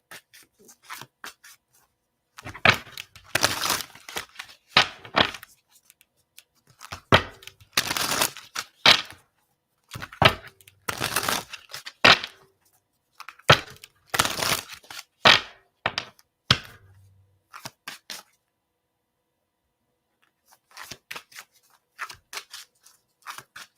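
Gemstones shuffled by hand in bursts of clicking, rattling clatter, close and fairly loud, separated by short silent pauses and repeating over about twenty seconds.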